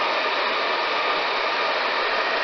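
A hair dryer running on its hot setting gives a steady, close, loud airy whoosh that holds constant from start to finish, with no talk.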